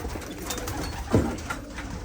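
A racing pigeon gives a short, low coo over steady outdoor background noise.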